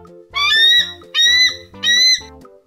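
An eagle gives three long, shrill, whistling cries of similar length with brief pauses between them, clear and close with nothing else heard.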